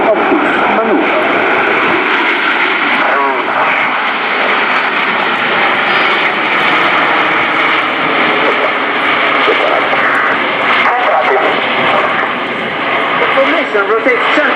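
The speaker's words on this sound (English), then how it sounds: "barrel roll for the 9 aircraft of the main group" Frecce Tricolori jet aircraft performing a barrel roll at an airshow, a loud, continuous, roaring engine drone heard from a distance, with a commentator's voice on the public address running over it throughout.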